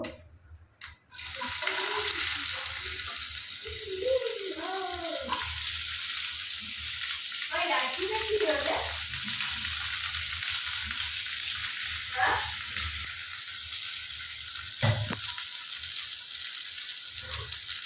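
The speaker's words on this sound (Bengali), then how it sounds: "হ্যাঁ, পেঁয়াজটা ভাজবো।" Chopped onion frying in hot oil in a pan after a five-spice tempering, giving a steady loud sizzling hiss throughout, with a few brief higher tonal chirps and faint clatter over it.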